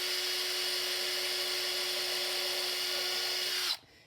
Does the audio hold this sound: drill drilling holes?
yes